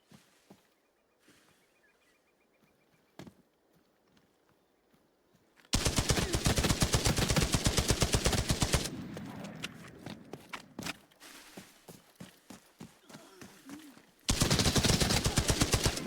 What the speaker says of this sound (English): The classic mag dump ambush from the bushes.